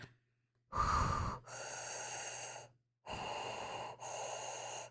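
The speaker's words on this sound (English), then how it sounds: "I got distracted by the breathing" Heavy breathing right up against a microphone: a sharp gasping inhale followed by three long, loud breaths, separated by brief pauses, close and alone over a low steady hum.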